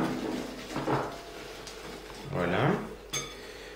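Powdered speculoos whisked into milk with a basic hand whisk, producing clinking, scraping strokes against a bowl in two main bursts, with a brief word spoken near the end.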